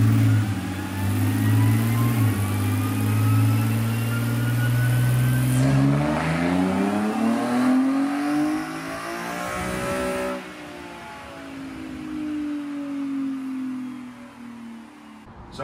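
A BMW N52 engine fitted with velocity stacks revs hard during dyno tuning, its loud intake roar climbing and falling through sustained pulls across the whole stretch, with no talking.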